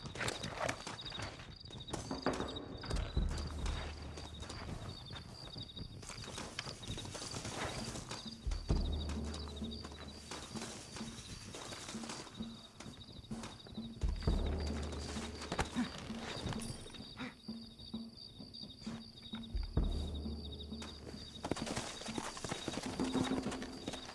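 Steady clip-clop of horse hooves at a walking pace in Red Dead Redemption, continuous and fairly close, with a faint low rumble and occasional bird calls in the background.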